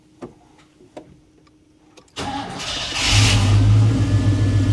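A 1992 Chevrolet Silverado truck fitted with a Sniper fuel injection swap cranks after a few clicks, then fires up loudly and settles into a rough, steady idle nearby.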